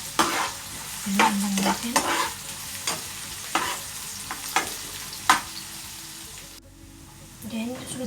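Garlic sautéing in a pan, a continuous sizzle with frequent spoon scrapes and taps, a few words spoken over it.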